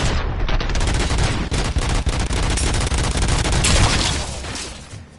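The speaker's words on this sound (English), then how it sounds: "Ooh, I'm taking fire by somebody." Sustained, loud rapid gunfire rattles through a firefight in the RoboCop: Rogue City video game, a dense stream of automatic shots that barely lets up before tapering off at the end.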